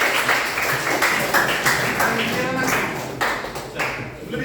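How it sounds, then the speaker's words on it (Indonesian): A group of school students claps hands in a run of distinct, rhythmic claps that come in quick bursts, with talk and voices heard throughout. "Tepuk tangan tuh dia, tepuk tangan."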